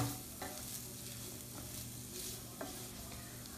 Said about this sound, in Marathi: हा नारळ या तुपावर थोडा परतवून घ्यायचा आहे